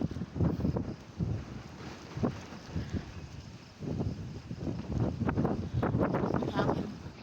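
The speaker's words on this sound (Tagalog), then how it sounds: "Hangin naman, napakalakas." Typhoon Uwan's strong wind gusting over crops beside a hut, a loud, rough roar that swells and surges in repeated blasts and buffets the microphone, with no voices.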